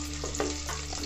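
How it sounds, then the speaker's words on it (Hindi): Onions frying in hot oil in a handi, a brief close burst of dense sizzling with a few soft stirring scrapes. "हांडी में जो ऑयल हमने डाला था उसके गर्म होने पर हम इसमें डालेंगे प्याज"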